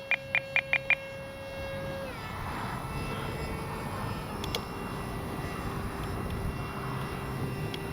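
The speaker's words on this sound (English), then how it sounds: "Noisy plane." A HobbyZone AeroScout RC airplane flies with a steady, buzzy propeller whine over outdoor background noise, preceded by a quick series of short electronic beeps at the start.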